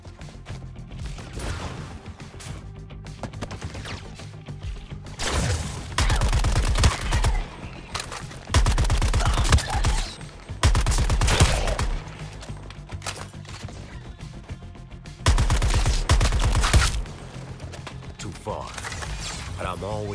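Gunfire in Suicide Squad: Kill The Justice League, several loud bursts of automatic fire lasting a second or two each, separated by quieter game ambience and mechanical clatter.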